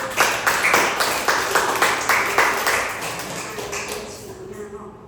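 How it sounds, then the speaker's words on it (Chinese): A church gathering claps for an Indigenous man about to share his testimony, sharp uneven hand claps that thin out and fade over several seconds. "大家可不可以给他一个原住民的掌声？"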